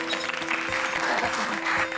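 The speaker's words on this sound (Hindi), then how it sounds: "अरे तालियां तो बजाओ" Audience clapping at a stage performance, a brief steady patter of many hands mixed with a faint sustained musical tone in the background.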